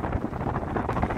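Strong wind buffets the microphone outdoors at a microwave antenna dismantling site, a brief, loud, continuous rushing roar.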